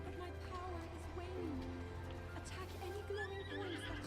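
A horse in the video game Zelda Breath of the Wild whinnies and clip-clops at low level, with game ambience and a voice talking over it.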